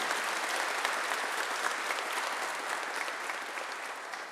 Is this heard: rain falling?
no